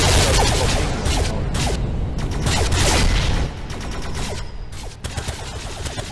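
Rockets repeatedly fired in the Anshar 2 VR space-combat game, a dense, loud barrage of rapid blasts and whooshing bursts layered over a continuous roar, easing slightly partway through.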